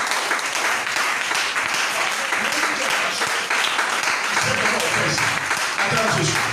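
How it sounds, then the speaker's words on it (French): A church congregation applauds and cheers loudly during a French-language worship service, continuous dense clapping with shouting voices layered on top throughout. "Acclame très fort le nom de Jésus"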